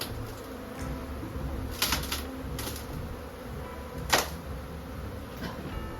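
A large, defensive honeybee colony inside an opened wall, floor to ceiling, gives a steady, dense buzz close by, broken by a few brief louder swells of wingbeats.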